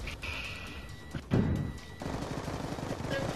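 In a team-based shooting video game, rapid gunfire bursts crack out, including a loud close volley around the middle, mixed with game effects and a player's voice over it.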